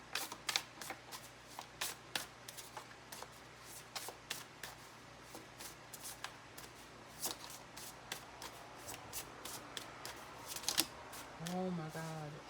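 Tarot cards are shuffled by hand in rapid, irregular bursts of crisp riffling and slapping, close and fairly quiet, with a person talking intermittently in the background.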